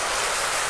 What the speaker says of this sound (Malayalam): എന്താ ഭയങ്കര മഴ